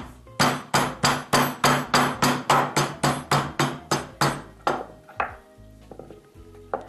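A meat mallet pounds moose meat in a fast, steady series of about fifteen loud, close thuds, slowing into a few scattered knocks and clatters at the end.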